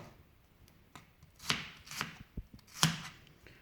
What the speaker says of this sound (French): je vais couper de l'ail